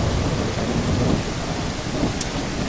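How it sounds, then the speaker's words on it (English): Steady rain and a rumble of thunder in the Granny Remake horror game, a continuous dense wash with a brief sharp crack near the end, heard alone without talk. "Oh, it's a beautiful rainy day."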